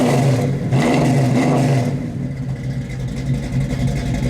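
A loud, close 1973 Dodge Challenger V8 engine rumbles with a deep dual exhaust note, revving up briefly before settling back to a steady idle.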